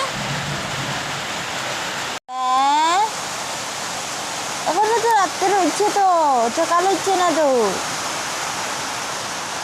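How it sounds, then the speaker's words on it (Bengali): Steady rain falls outside at night, a constant broadband hiss running through the whole stretch, while voices talk over it. "বাইরে বৃষ্টি দিয়ে গো বাবা"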